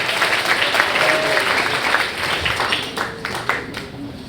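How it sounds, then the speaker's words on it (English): Audience applause for a storyteller at an LA Moth StorySlam, a loud, sustained crowd clapping with scattered sharper claps and a brief whoop, tapering slightly toward the end. "let's give a huge round of applause for Kevin."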